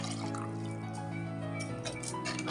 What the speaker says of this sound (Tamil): மிக்ஸி ஜார் கழுகுன தண்ணி வந்து சேர்த்துக்கிறேன்